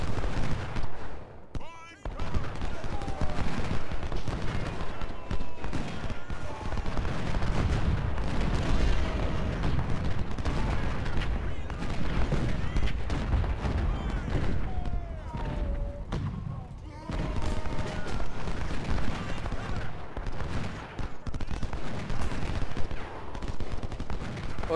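Gunfire and artillery from the Ultimate General: Civil War video game at the Franklin battle, a sustained din of crackling musketry and booming cannon with brief lulls, overlaid by someone talking intermittently.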